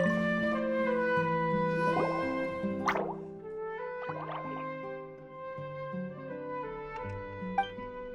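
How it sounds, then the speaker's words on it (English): Water droplet dripping in Genshin Impact: a few scattered, soft plops and drips land over sustained melodic background music, each one brief and fairly close. "it sounds like a water droplet is on the second floor!"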